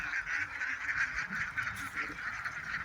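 Ducks in a pen, raised for balut and salted eggs, give a continuous chorus of nasal quacks and honks that overlap steadily at moderate distance with no pauses.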